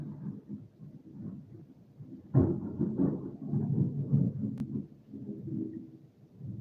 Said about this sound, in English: that was lightning and thunder